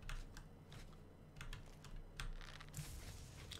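A computer keyboard clatters with faint, irregular bursts of key clicks, quiet and close, with no voices.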